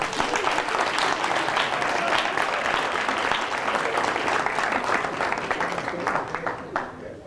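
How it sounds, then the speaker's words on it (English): Sustained audience applause fills the room at a jazz gathering, dense steady clapping throughout that tapers off slightly at the end, with no speech over it. "for somebody to get an applause and they ain't played a note"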